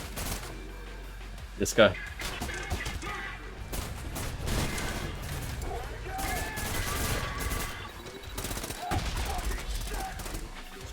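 Enemy gunfire crackles in repeated bursts in the Trepang2 shooter game, with rapid shots and impacts that go on steadily, while someone speaks briefly over the noise.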